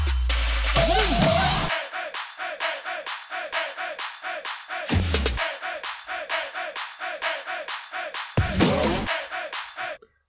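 Layered EDM drop drums play together in a steady, fast pattern of crisp hits and claps, with a few deep booming accents and rising sweeps, loud and mechanical with no voices.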